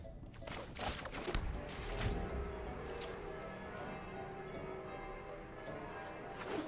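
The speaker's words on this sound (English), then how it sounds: "The bells of the Orzhov Guild ringing." The Orzhov Guild bells ring out in Magic: The Gathering Arena as a loud, resonant peal with several struck chimes close together at the start, then a long shimmering decay that stays present to the end.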